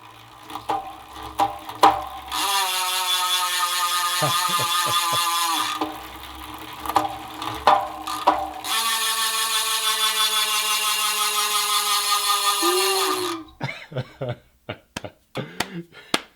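A Yoeleo C88 Pro bicycle wheel freehub with a 36-tooth star ratchet spins out in two long, loud, buzzing runs of rapid clicks, with handling knocks before, between and after.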